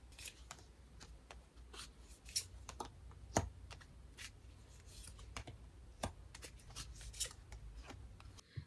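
Tarot cards are handled and shuffled close by, giving quiet, scattered crisp snaps and soft rustles in a near-silent room with no talking.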